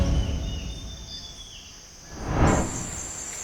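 Insects chirp in the Lower Urubamba forest, a steady high buzzing drone with a rising burst of broadband rustle near the end, moderately faint and with no voices.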